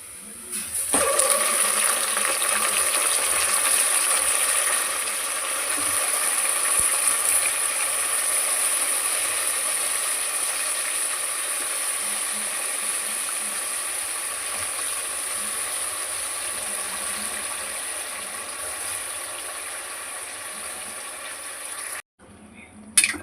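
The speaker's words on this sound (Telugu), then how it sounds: "మటన్ వేసుకొని ఇలా కొద్దిసేపు వేగనిద్దాం." Mutton frying in a pan with golden-brown onions gives a steady, close sizzle and hiss that holds evenly for over twenty seconds before cutting off abruptly.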